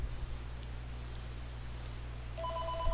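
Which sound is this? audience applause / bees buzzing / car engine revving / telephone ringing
telephone ringing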